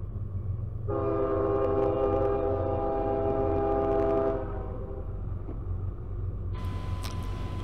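A CSX freight train, locomotive 5217, rumbles past with a steady low roar. A strong multi-tone horn blast sounds through the middle of the passage before fading, with a brief sharp high sound near the end.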